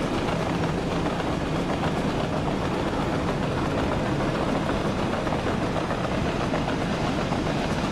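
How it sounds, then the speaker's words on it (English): A chemicals freight train rolls past in the Soviet-era city-building game Workers & Resources: Soviet Republic, a loud, steady rumble of wheels and wagons filling the whole stretch with no talking. "There we have a train going by. Yes, the chemicals train"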